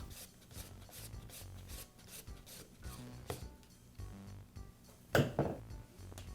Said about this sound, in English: I'll use a screwdriver to unscrew the cap.